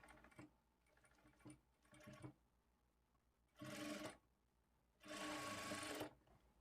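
A sewing machine stitches the shoulder seam of a two-layer frock in short bursts of whirring, with two brief runs and then two longer, louder runs separated by quiet pauses.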